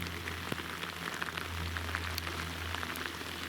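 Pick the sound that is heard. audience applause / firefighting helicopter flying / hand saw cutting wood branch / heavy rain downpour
heavy rain downpour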